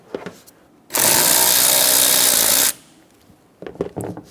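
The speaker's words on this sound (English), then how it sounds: "We have one more clamp going to the air box that we'll loosen." A power tool loosens the air box hose clamp on a 2014-2018 Chevrolet Silverado 1500 5.3L V8, running in one loud, even whir of about two seconds, with faint clicks and handling noises before and after.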